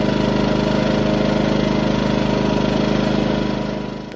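A Ryobi portable inverter generator engine runs steadily and close by, a constant mechanical drone with a fast, even pulse that eases off slightly near the end, with no voice over it.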